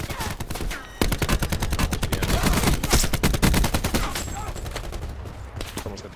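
Rapid automatic gunfire in the Black Ops 4 beta crackles in dense, sharp bursts, loud and close, following a brief lull, then tapering slightly toward the end with scattered single shots.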